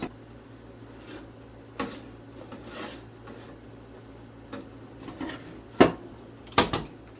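A pepperoni pizza is rotated inside a Kalorik Maxx air fryer oven, giving scattered scraping and rubbing sounds with a few sharp knocks of metal against the rack over a low, steady fan hum.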